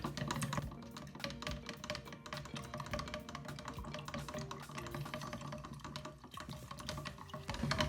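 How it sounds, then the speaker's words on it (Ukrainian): A fungicide solution for cymbidium orchid roots is stirred in settled, lukewarm water, giving soft, continuous sloshing and clinking close by, with no pause throughout. "це все гарненько розмішую, вода відстояна у мене"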